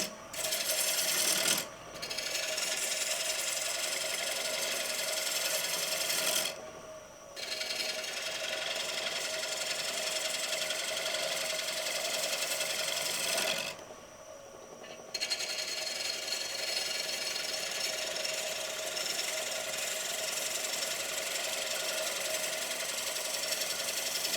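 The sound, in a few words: woodturning tool making a draw cut on a platter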